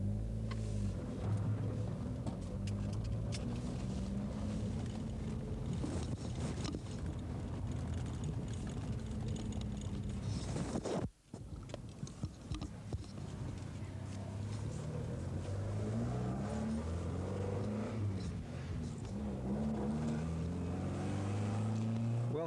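A race car engine drones loudly from inside the cockpit at Phillip Island in 1989 during an AROCA race meeting, with a steady roar and a brief sharp dip partway through. No one speaks.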